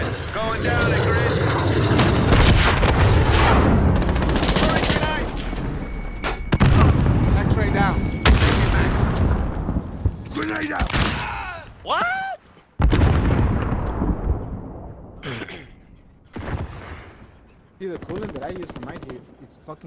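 Light machine gun fire in a video game, loud rapid bursts and sharp repeated shots mixed with heavy booming and engine-like roar, over voices talking throughout.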